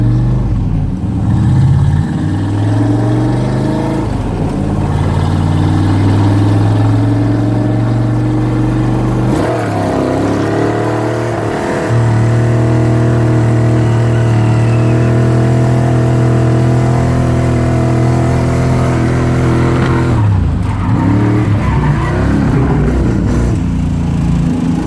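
A V8 drift truck's engine runs rough after being flooded. It makes a loud, close throaty idle broken by repeated revs that rise and fall, with a few stumbles and cut-outs over about twenty-five seconds.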